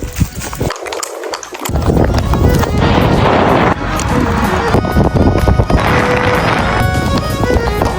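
Horses weighing around 100 kilos run past on a palomino ranch during a birthday celebration, hooves clattering loudly and continuously under crowd noise and voices, with a brief dip near the start.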